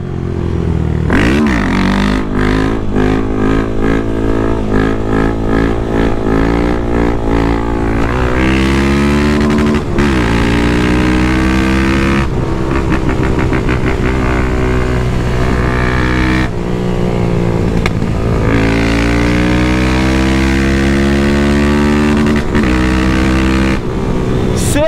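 A 2023 Honda CB300F Twister fitted with a Dore exhaust revs loud and close for a long stretch, its engine note rising and falling in repeated throttle blips, with sharp pops crackling through the early revs.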